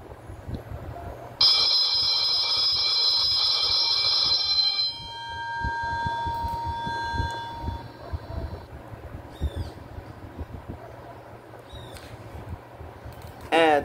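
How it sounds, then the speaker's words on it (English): A loud, steady electric school bell sound from a small homemade speaker rings continuously for a few seconds, then cuts off, leaving lower tones fading over background noise and scattered clicks. "A school bell noise."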